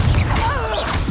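A Confringo fire blast spell strikes in Hogwarts Legacy, a sharp crashing impact with a swooshing tail and rising magical tones, loud and continuous over a dense game soundscape.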